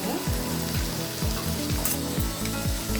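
Onions and tomatoes sizzle and fry in a pan while being mashed, with a steady hiss and a regular series of soft, rhythmic mashing strokes against the pan, close and fairly loud.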